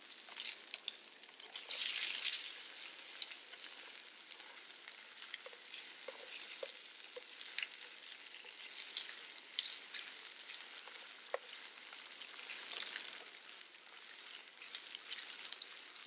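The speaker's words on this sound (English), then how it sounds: "once the onions are softened up a little bit, the rest of the ingredients can go in" Softened onions and other ingredients for chicken haddie sizzle and fry in a pan, a steady close crackle with occasional scraping stirs and faint drips throughout.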